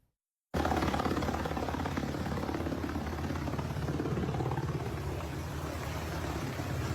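A helicopter hovers overhead during a nighttime immigration raid in Chicago, giving a loud, continuous rotor drone with no pause after a short silent start.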